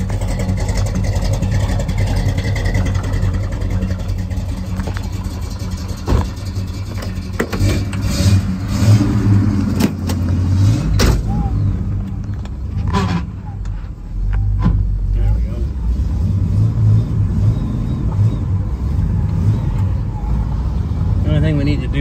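A 1970 Oldsmobile 442 with a 455 engine and Tremec 5-speed runs steadily as it drives, low rumbling and occasional revving, loud and close, with a person talking over it.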